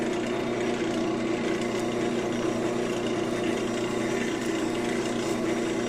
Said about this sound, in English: Take a little piece of sandpaper and sand them.